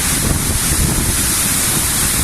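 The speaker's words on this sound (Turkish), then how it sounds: "Ali Doğan şelalesi." Ali Doğan Waterfall in Çamlıyayla, Mersin roars as a loud, unbroken rush of falling water close to the microphone, with some wind buffeting and no voices.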